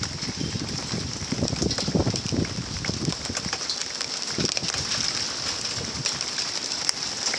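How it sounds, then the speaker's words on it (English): Hail falling outdoors, a steady dense rattle and patter spread across the whole stretch, with heavier bursts of impacts early on and no talk. "It's hailing. It's hailing."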